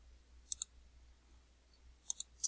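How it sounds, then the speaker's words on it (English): Computer mouse clicks, faint and close, come in two quick pairs separated by a pause, followed by a final single click against a quiet low hum. "I'm going to right click on graffiti 2, duplicate it"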